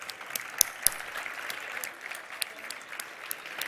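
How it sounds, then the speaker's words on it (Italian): An audience applauds at the close of an event, with a soft, steady wash of clapping, a few sharper claps near the start, and faint voices underneath. "Applausone, dai."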